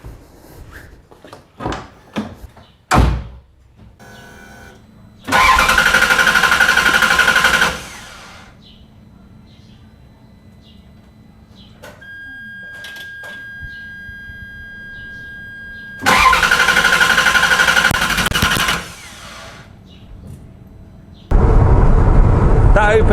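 A Ferrari sets off for a ride. Several sharp clunks of the car door come first, then loud bursts of engine revving, each lasting a few seconds, separated by quieter idle with a faint electronic beep.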